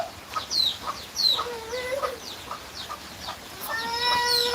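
Hens and chicks clucking and chirping close by on a rainy day, several short calls with a longer squawk near the end, over a soft outdoor background.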